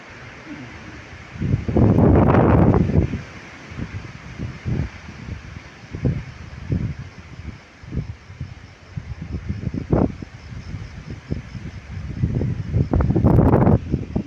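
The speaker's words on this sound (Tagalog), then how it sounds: "Malakas masyado hangin dito sa amin" Strong wind buffets the microphone in heavy gusts, with loud roaring bursts near the start and end and a steady rushing noise throughout.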